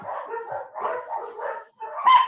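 Pet dogs barking indoors at home, a run of several close, sharp barks in quick succession ending in a higher yelp.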